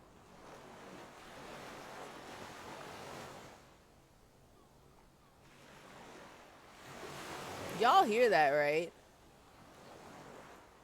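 Electronic-sounding water ambience in the video game Disco Elysium: a steady surf-like wash, then a brief, loud, warbling, wavering tone near the end, with a person talking over parts of it.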